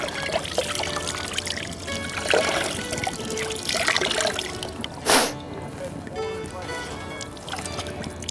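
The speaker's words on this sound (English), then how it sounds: "wring it out real good." Wet laundry is wrung out by hand outdoors, with water trickling and splashing off the cloth in uneven bursts while a person talks over it and one brief louder splash stands out.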